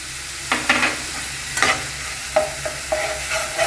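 Ginger paste frying in a pan for a simple vada curry, a soft sizzle under repeated scraping stirs of a spoon, several short bursts in quick succession, close and fairly quiet.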